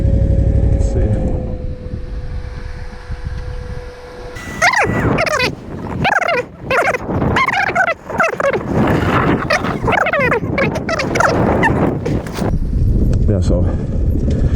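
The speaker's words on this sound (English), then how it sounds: "I think they have a dog here." A dog barks repeatedly at a gravel pit near an idling KTM 990 Adventure motorcycle, loud irregular barks and yelps dominating after a steady engine drone at the start, with someone talking in between.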